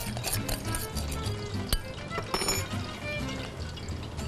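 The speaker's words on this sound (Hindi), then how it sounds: "चीनी भी डाल दूँगी और पानी डाल दूँगी" Water poured into a cooking pot holding sugar, a continuous splashing pour with a few clinks and knocks against the pot, moderately close and lasting throughout.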